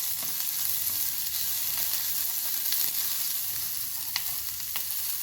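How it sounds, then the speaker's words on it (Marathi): Vegetables, carrots among them, sautéing in a pan for ragi soup, a loud continuous sizzle heard up close with light scraping stirs. "आपण हे 2 मिनिट छान परतू देणार आहोत. आपल्या भाज्या छान फ्राय झालेल्या आहे."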